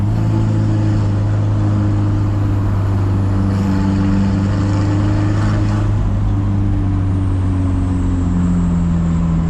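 A steady turbocharged Audi engine drone in a Karmann-Ghia, with a low, constant hum and a faint turbine whine riding on top, loud and continuous without speech.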